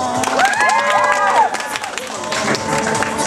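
Applause and cheering from a crowd at a cosplay stage show in a bookshop, with clapping mixed with excited shouts and rising voices, loud and close, with talk in the room.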